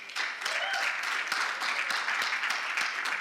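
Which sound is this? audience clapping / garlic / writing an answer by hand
audience clapping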